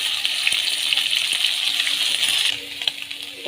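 Potatoes and soybean chunks, with green chillies and tomatoes, fry in a pan with a steady broadband hiss, a few light clinks from a utensil, and the sizzle easing slightly near the end.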